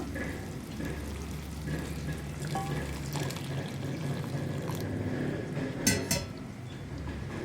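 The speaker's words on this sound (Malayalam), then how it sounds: "ഇതിലേക്ക് ഞാൻ കുറച്ച് തിളച്ച വെള്ളം ചേർക്കുകയാണ്" Boiling water is poured into a pot of green gram curry made without coconut, giving a steady, soft liquid rush with a brief splashy bump near the end, all fairly quiet.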